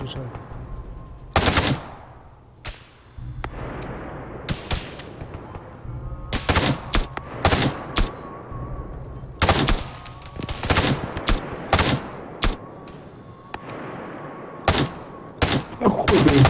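Repeated bursts of automatic gunfire in a video game, loud and sharp, separated by short lulls, with occasional faint voices in between.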